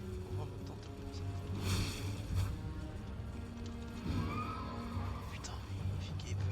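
A horse neighs and whinnies in combat in the video game Elden Ring, layered with game clashes, hoof thuds and impacts, while someone talks in French over it.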